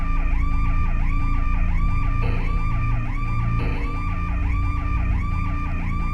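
Alarm siren in the video game Five Nights with Froggy, a loud continuous wailing that sweeps up and down repeatedly, alone with no talk.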